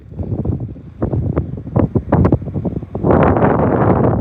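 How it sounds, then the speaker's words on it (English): Wind gusting near the Borel fire, a rough, buffeting roar that swells and drops in bursts before rising into a stronger sustained gust, loud and close against the microphone. "oh, the wind, there's the wind right there for you."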